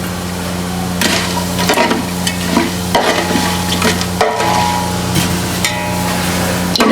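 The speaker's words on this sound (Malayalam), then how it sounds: "അപ്പോൾ ഇതെല്ലാം നമ്മൾ കുറച്ച് ഓയിൽ ഒഴിച്ചിട്ടുണ്ട്. അതിലേക്ക് നമ്മൾ ഇത്ര ഐറ്റംസുകൾ ആഡ് ചെയ്യാം കേട്ടോ. ഇത് നന്നായിട്ട് ഇളക്കി കൊടുക്കാം." Vegetables stirred in hot oil in a pan for chicken biryani: a steady close sizzle runs throughout, broken by repeated scraping, clattering strokes of the spoon, with no talking.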